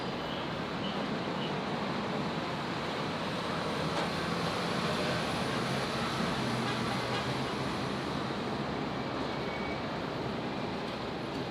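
An airliner takes off from runway 01 right at Brisbane International Airport, a steady, fairly faint broadband engine roar that holds evenly throughout, with no voices over it.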